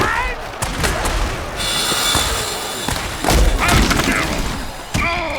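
A hard tackle hit in a mutant football video game lands as a heavy thud among crashing impacts and roaring crowd noise, loud and close, with commentary voices talking around it.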